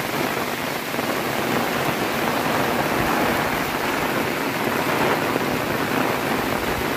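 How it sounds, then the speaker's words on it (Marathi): Rain falls steadily in the Konkan countryside at Shirgaon, Devgad, a dense, even hiss that holds without a break and without voices. "आणि पाऊस आता पडायला सुरुवात झाली आहे नुकतीच"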